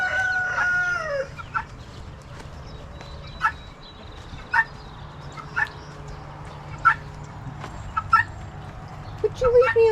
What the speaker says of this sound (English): Being attacked by a chicken.